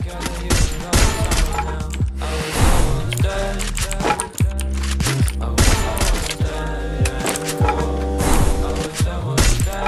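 Rapid bursts of gunfire from Free Fire mobile battle-royale gameplay, dense overlapping shots and thumps in quick irregular volleys, loud throughout and mixed with other game sounds.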